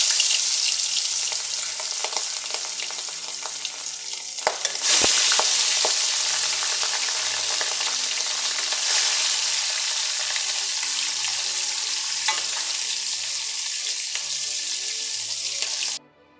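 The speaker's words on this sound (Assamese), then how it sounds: "এতিয়া মাছ এপিচ এপিচকৈ দি দিম।" Boroli fish pieces fry in a pan with a loud, steady sizzle that swells sharply as more pieces go in, then holds as a dense hiss until it cuts off.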